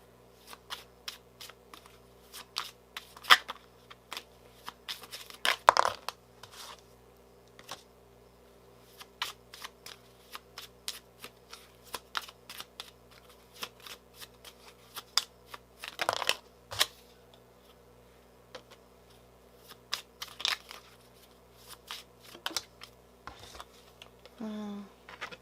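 Kipper cards are shuffled in irregular bursts of crisp riffling and slapping, close and fairly quiet, with short pauses between handfuls.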